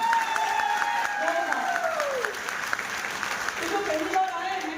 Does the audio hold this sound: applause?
yes